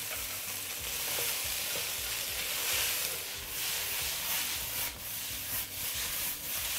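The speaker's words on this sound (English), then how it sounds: "We'll just fry them for a minute or two." Chow mein noodles stir-fried in a wok, a steady close sizzle and hiss of frying with repeated scraping and tossing strokes, no talking.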